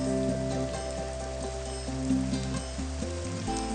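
Steady rain patters on a surface, a constant hiss of drops with sustained musical tones playing underneath throughout.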